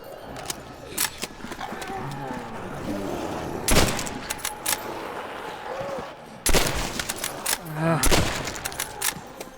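Gunfire in Call of Duty: World at War cracks out in loud bursts and single shots, with heavier blasts, amid battle noise while someone talks over it.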